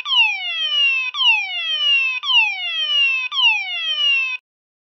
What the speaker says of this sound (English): when you set a detector off, that trips and sets the sounder off.